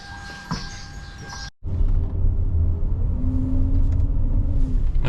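A car interior on a drive through Phnom Penh. A quiet stretch with a brief knock gives way to a sudden cut into steady low engine rumble and road noise, with a faint rising whine from the drivetrain.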